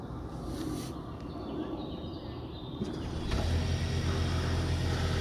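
A 2020 Ford Fusion idles close by as a steady low engine rumble, with a brief mechanical click and a slight rise in engine level partway through.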